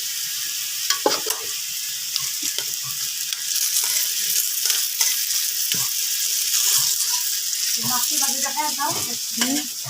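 Eggplant fritters frying in hot oil give a steady, loud sizzle that runs the whole time, with occasional clinks and stirring noises near the end.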